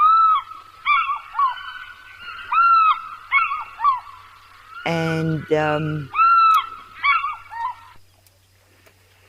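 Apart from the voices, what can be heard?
fish eagle calling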